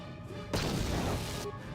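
A frag grenade explodes in Star Wars: Knights of the Old Republic, a single loud, broad crash that holds for about a second before cutting off.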